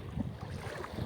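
Strong wind gusting across the open sea on a fishing trip, a steady low buffeting rumble against the microphone with no voices.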